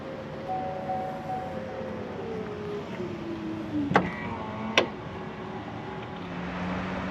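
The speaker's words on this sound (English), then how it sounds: "you have a button to close down the trunk" The power tailgate of a 2024 Cadillac XT5 Sport closes after a button press, with a steady motor whine gliding down, then a couple of sharp latching clunks, heard close against a quiet background.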